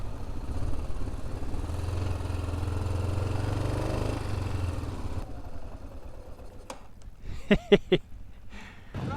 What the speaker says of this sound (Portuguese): A moto tá morrendo. Morreu agora.